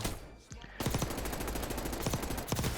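Rapid bursts of video game automatic gunfire crackle in a fast, steady stream, loud and close, with a brief lull before the shooting begins.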